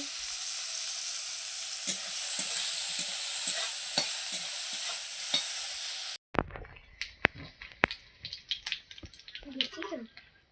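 Soybean chunks fry in a pan with a loud, steady sizzle for about six seconds, then give way to scattered stirring scrapes and clinks.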